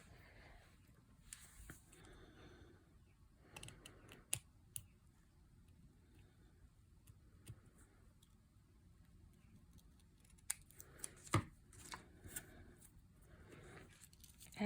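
Scissors trimming the tails of paper card pieces while crafting a heat embossed Christmas card, giving soft, quiet snips and clicks scattered through a hushed room.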